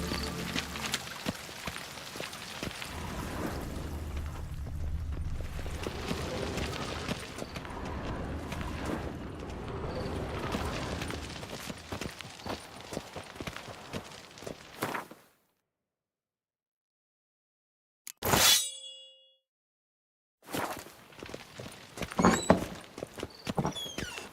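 Hooves of the horse Roach galloping steadily in The Witcher 3, a dense rhythmic clatter of clip-clops for about fifteen seconds, then silence broken by a brief sharp burst and more scattered game sounds.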